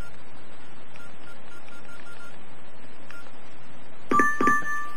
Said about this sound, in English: And there it goes, and you hear the sound on my computer.